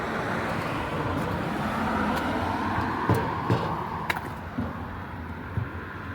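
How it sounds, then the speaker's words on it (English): Cars whip along a main highway through a small prairie town, a continuous roar of road traffic with individual vehicles swelling and fading past, and a few light clicks and knocks close by. "you're gonna get a lot of cars whipping through here."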